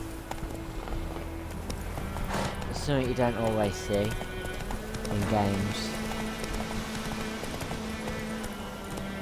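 Horse hooves clip-clop in a steady trot in The Witcher 3, under someone talking, with game music and ambience in the background.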